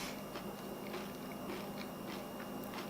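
Crisp biting and chewing of a crunchy cracker topped with cheese and tomato thyme preserves, close up with a regular series of crunches about every half second over faint background hiss.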